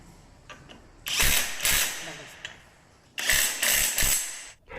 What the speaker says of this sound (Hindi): चलिए अब हम वापस से नट फिट कर देते हैं।